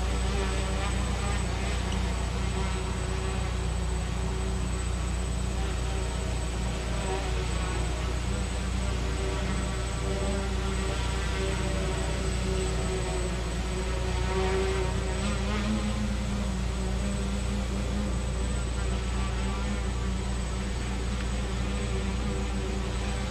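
An ArduCopter multirotor drone on a HobbyKing Predator 650 frame hovers nearby, its propellers holding a steady, loud buzzing drone with slight pitch wavering throughout, someone talking briefly under it.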